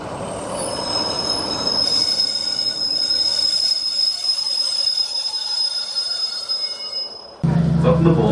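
A Northern passenger train rolls along the rails with a sustained high metallic wheel squeal over a steady rumble, ending in a sudden louder burst of mechanical noise.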